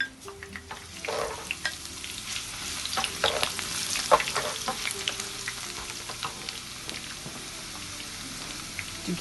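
Curry leaves sizzle and crackle in hot oil and ghee for a lentil curry, a steady frying hiss close by with sharp pops and spatters scattered throughout, and no voices.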